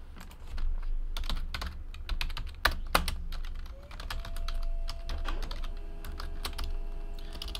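Computer keyboard typing, a fast run of crisp close keystrokes over a low background hum, with a faint tone entering partway through and no talking.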